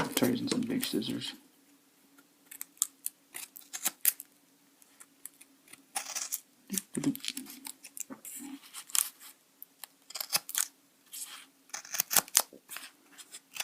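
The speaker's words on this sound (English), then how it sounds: "Try using some big scissors." Big scissors snip through cardboard for a homemade dinosaur model in a run of crisp, close cuts, some quick and clustered and others spaced apart, with a faint steady hum behind and a brief voice at the start.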